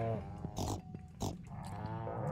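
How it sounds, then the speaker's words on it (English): Pigs in Stardew Valley grunt and snort in short repeated bursts, close and moderately quiet, with a low tonal hum running underneath. "All the piggies."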